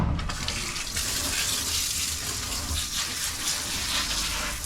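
Steady running water pours and splashes during a rinse, a dense continuous hiss filling the whole stretch with no talk.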